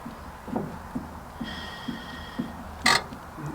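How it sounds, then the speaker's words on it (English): Fuel injector on a Field Marshall single-cylinder diesel tractor creaking faintly, giving soft rhythmic ticks roughly every half second, with a brief thin squeak and a sharper louder creak near the end, quiet and close. "Hear the creak, the injector creak."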